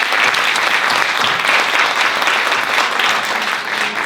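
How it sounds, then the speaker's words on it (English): Conference attendees at a domestic abuse conference fill the room with dense, continuous applause, loud and steady throughout. "So give yourselves a round of applause."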